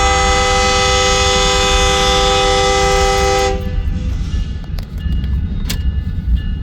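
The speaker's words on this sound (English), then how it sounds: "We'll get a spin around real quick and get a picture of a little video of BNSF local working the yard here" A BNSF local freight train working a rail yard sounds a loud, sustained horn blast for about three and a half seconds, then the blast cuts off, leaving rumbling yard noise.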